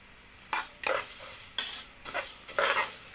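Rice and toasted vermicelli are stirred together in a pot with a spoon. About six distinct scraping, rustling strokes land in an uneven rhythm, close and fairly soft over a quiet background.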